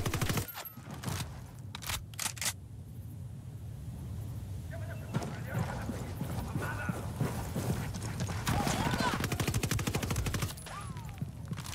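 Gunfire in the tactical shooter Ghost Recon Wildlands, with sharp shots near the start and again late on, and a rapid burst toward the end over steady game ambience.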